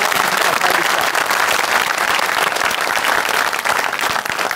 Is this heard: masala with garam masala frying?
no